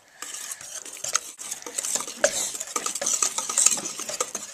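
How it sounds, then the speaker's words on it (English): Pancake batter with a cracked egg is whisked in a bowl, giving rapid, close scraping and clinking strokes that grow busier and louder over several seconds with no voices. "Now you have to mix up your"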